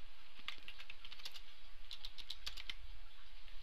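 Rapid keystrokes of code being typed on a computer keyboard while writing an event listener for a Photoshop and Fireworks fade effect, clicking in uneven bursts, close and clear with no talk.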